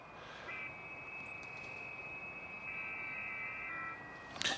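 A shortwave radio tuned to 14074 on the 20 meter band picks up faint, steady digital tones and warbling signals over soft static, with a brief louder burst at the end.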